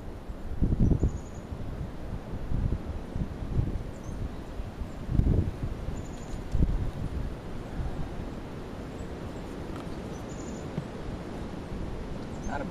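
Gusty wind blows outdoors on a mild day while a radio cabinet is built, buffeting the microphone in low rumbling bursts that swell and fade over steady background noise.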